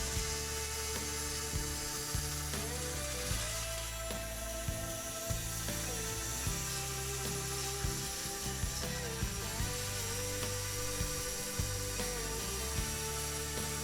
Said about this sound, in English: a couple passes over the bandsaw